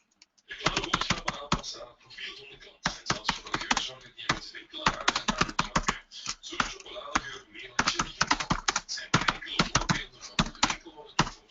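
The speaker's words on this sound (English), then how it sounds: "I hear you typing." Rapid, uneven keyboard typing with clustered keystrokes and short pauses, fairly close and clear, with no voices over it.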